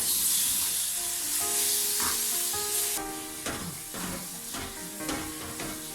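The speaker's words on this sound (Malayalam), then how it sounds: "എല്ലാം കൂടി നന്നായിട്ടങ്ങ് വഴറ്റിയെടുക്കാം." A raisin and garlic pickle mixture with jaggery and tamarind is sautéed in a pan, giving a loud, steady sizzle broken by occasional scraping stirs, with the hiss easing slightly halfway through.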